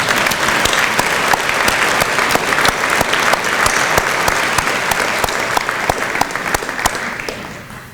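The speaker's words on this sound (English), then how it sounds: "would you please join me in a round of applause for their excellent work for the Port of Kennewick?" A luncheon audience at a chamber of commerce event applauds port staff, sustained loud clapping from a large room with sharp individual claps standing out, tapering off toward the end.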